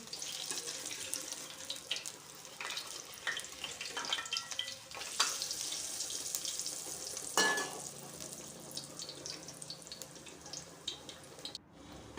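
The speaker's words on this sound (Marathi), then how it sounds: "आता आपण संपूर्ण ब्रेड अशाच प्रकारे तळून घेऊया" Bread slices coated in besan batter fry in a pan with a soft, continuous sizzle and occasional louder crackles and scrapes, fairly quiet and without any talking.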